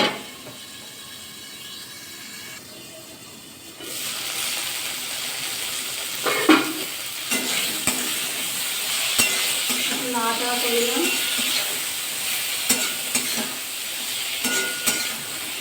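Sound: okra frying and being stirred in oil with salt

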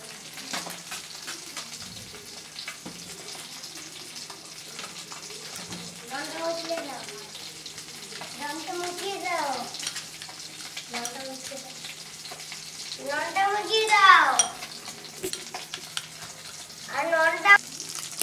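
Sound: bata fish frying in oil

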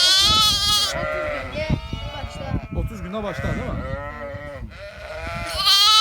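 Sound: lambs and sheep bleating on a sheep farm

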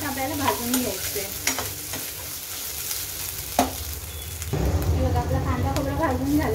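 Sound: roasting and stirring onion, coconut, ginger, garlic in pan

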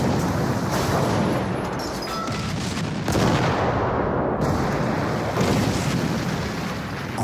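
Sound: artillery bombardment, shells falling at Verdun 1916

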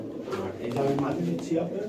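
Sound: dopas pigeon

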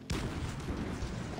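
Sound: grenade explosion in Minecraft (video game)

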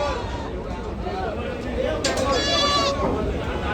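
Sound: goats bleating

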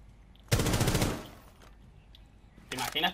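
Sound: gunfire in the video game Rainbow Six Siege

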